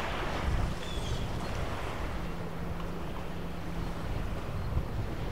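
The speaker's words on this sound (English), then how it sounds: "you could probably hear the waves crashing on the shore." Waves wash and crash against the shore with steady roaring surf, mixed with wind buffeting the microphone; no voices.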